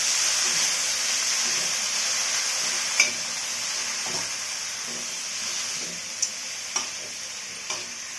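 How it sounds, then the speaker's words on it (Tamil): Mint leaves sauté in a pan for chutney with a soft, steady sizzle and hiss, broken by a few light clicks of a spatula stirring against the pan, moderately loud with no speech. "புதினாவை க்ளீன் பண்ணி நல்லா அலசி வச்சுருக்கேன் அதே இதில் சேர்த்துக்கலாம் நல்லா வதக்கிட்டுக்கலாம்"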